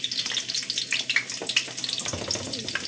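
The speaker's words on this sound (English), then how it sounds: "I'm going to bring those over and start cooking those in the pan" Chopped onions sizzle and crackle in a hot pan, a bright spattering hiss with small pops and scraping stirs, steady and close.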